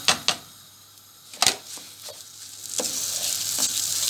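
Rice and raisins being stirred and sautéed in a pan. A few sharp scraping clicks come early, then a soft sizzle builds and thickens over the last seconds. Brief and close, with no voices.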